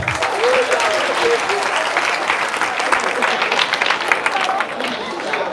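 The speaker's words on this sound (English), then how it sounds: "Clap for yourselves." Students clap for themselves after a school workout session, a dense, steady burst of applause filling the space, with scattered voices and chatter mixed in throughout.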